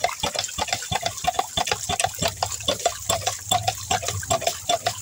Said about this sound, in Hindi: ये जो आ रहा है देखिए घोला पानी आ रहा है